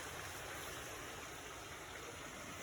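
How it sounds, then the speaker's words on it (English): Heavy rain pours outside on a wet day, forming a steady, soft, even hiss of falling water with no voices. "Oh, it's pouring a lot."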